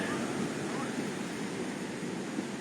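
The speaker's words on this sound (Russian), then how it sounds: "Море волнуется." Stormy Black Sea surf at Koktebel, Crimea, on an October evening, a steady broadband roar of breaking waves with wind rushing over the microphone, continuous and fairly loud.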